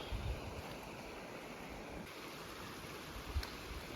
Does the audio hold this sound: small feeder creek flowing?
yes